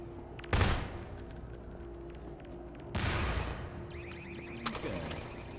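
Gunfire in the video game Half-Life 2 co-op: two short, loud rattling bursts of automatic fire a few seconds apart, then a sharper single crack, over a low steady background hum.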